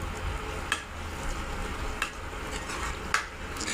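Raw cream bubbles and sizzles steadily in a pot on a gas flame as it turns into desi ghee, a constant frying hiss broken by three sharp clinks of a stirring utensil against the pot.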